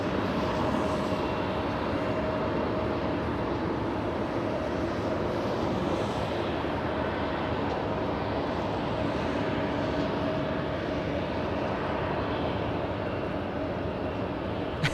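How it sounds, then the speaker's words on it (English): An American Airlines jet arriving at LAX from JFK sounds as a faint, steady engine rumble and distant whine holding evenly throughout, with no talk. "We have American 3 flying in from JFK."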